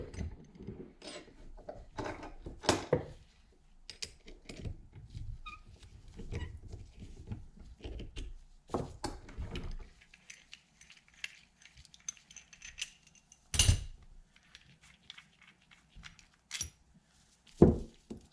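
An Apeks XTX 50 DST scuba regulator's DIN assembly is worked loose in a vise, giving scattered metallic clicks, ratcheting and rubbing with a few sharper knocks, close and fairly quiet.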